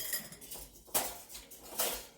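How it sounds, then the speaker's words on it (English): A whisk clatters against a mixing bowl while beating batter, giving repeated metallic clinks and scrapes with a few sharper knocks, fairly close and without talk. "I'm going to whisk this again"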